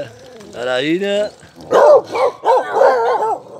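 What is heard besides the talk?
female dachshund dogs barking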